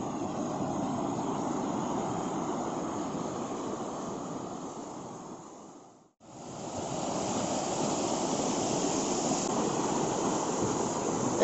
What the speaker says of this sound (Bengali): জলের স্রোত, যা পাথরের মাঝখান থেকে আস্তে আস্তে এসছে বড় গদগদা ওয়াটারফল থেকে